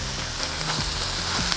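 Shrimp seasoned with salt and black pepper sizzle and fry in a hot pan, with a constant bright crackle and a few soft stirring scrapes, heard close with no talking.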